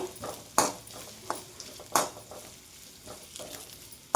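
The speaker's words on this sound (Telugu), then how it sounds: "ఆయిల్ వేడైన తర్వాత ఒక గ్లాసు అల్లం ముక్కలు తీసుకుని వేయించుకోవాలండి" Chopped ginger pieces frying in hot oil for a mango-ginger pickle, with a steady low sizzle broken by several sharp stirring clatters of a utensil against the pan.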